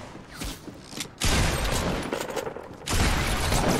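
Gunfire in the Fortnite video game, heavy bursts of rapid shots that come in two loud waves, with no talking.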